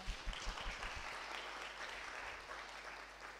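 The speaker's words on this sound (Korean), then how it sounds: "박수 목사님 사모님." A church congregation at a Korean Sunday service in Weimar breaks into applause, a dense clatter of many hands clapping, with a few sharper claps at the start, then a sustained wash of clapping.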